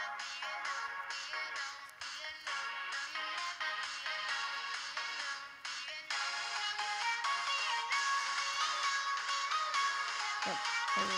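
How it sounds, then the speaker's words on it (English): A phone ringtone chirps steadily through a video game level, its repeated tones running over busy layered game music for the whole stretch without a break. "Yep, there's the phone."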